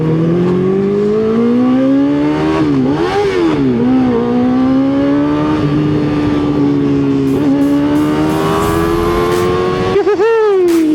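A motorcycle engine drones steadily and close during a ride, its pitch rising and falling with throttle changes and sharper revs near the start and end, with no talking.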